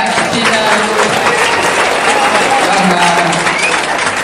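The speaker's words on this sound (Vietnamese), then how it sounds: "xin cảm ơn ông chủ tịch bằng một tràng pháo tay" Audience at a Vietnamese parish celebration for the feast of Saint Joseph the Worker applauding loudly and continuously, dense crowd clapping throughout with a voice speaking briefly over it.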